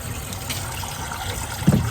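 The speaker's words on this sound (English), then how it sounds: "let me wash this cutting board" Tap water runs steadily over a cutting board being washed in a kitchen sink, a close broadband rush with a brief low knock near the end and no talking.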